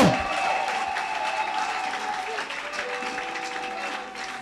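A church congregation applauds Jesus during a charismatic worship service, with steady, dense clapping from a large crowd that continues without a break and fades slightly toward the end, with some voices mixed in.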